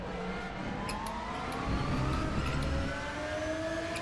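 Race car engine in the RaceRoom sim racing game, a droning whine with shifting pitch that swells and revs harder in the middle before easing off.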